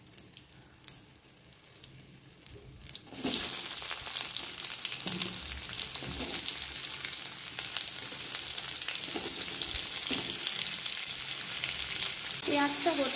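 Whole cinnamon, cardamom, cumin seeds and cloves drop into hot oil for a Bihari-style chicken curry. A quiet start gives way suddenly to a loud, steady, crackling sizzle that carries on to the end.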